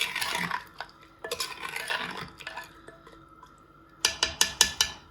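A spoon scrapes and stirs chicken handi with boiled chickpeas in a metal pot, ending in a quick series of rhythmic clanks against the pan.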